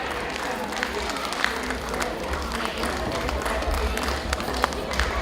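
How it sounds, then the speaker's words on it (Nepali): An audience at a community Lhochhar celebration in the UK claps to welcome a guest to the stage. Moderate, scattered applause continues throughout with a few sharper claps, and some chatter mixes in. "कृपया जोरदार तालीका साथ उहाँलाई स्टेजमा स्वागत गरिदिनु विनम्र अनुरोध गर्छु"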